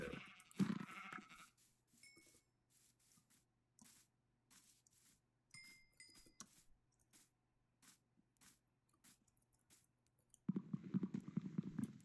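Sheep bleating in the Minecraft video game, a few short bleats scattered over quiet game sounds, followed by a louder burst near the end.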